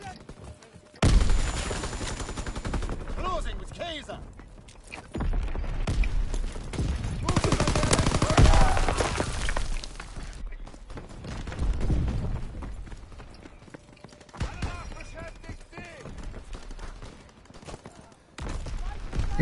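Dense gunfire rattles through a WW2 video game battle, loud rapid bursts and volleys continuing over most of the stretch, with players' voices talking over it.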